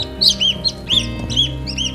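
A newly hatched Brahma chick cheeps close by in repeated high, thin calls, about six or seven short peeps spaced evenly, with a faint steady hum behind them and no voices.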